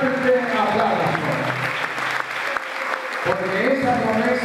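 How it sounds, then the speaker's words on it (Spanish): A church congregation at an Assemblies of God service claps in a sustained burst of applause, dense and lively, with voices mixed in around it. "Podemos rendirle al Señor ese fuerte aplauso"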